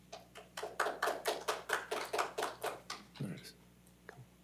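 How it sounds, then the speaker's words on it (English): A smattering of applause at a city council meeting: about a dozen moderately loud, fairly regular hand claps over roughly three seconds that then fade out, heard alone in the room. "Smattering of applause."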